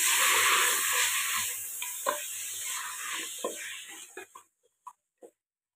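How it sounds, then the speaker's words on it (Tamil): Mutton pieces sautéed in hot ghee in a pan make a loud sizzle broken by spatula stirs; the frying fades away and only a few separate taps and scrapes are left at the end. "இந்த நெய்யிலே இந்த மட்டனை நல்லா வதக்கலாம்."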